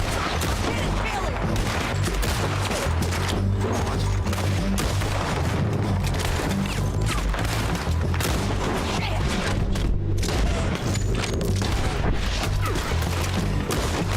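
Gunfire in Red Dead Redemption 2 crackles steadily in repeated, dense bursts of shots and booms for the whole stretch, loud and busy with a low rumbling bed underneath.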